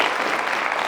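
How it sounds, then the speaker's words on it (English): A brief, dense wash of audience applause at a discourse series event at DePaul University in Chicago, lasting under a second at even loudness. "The applause is truly for you, honestly"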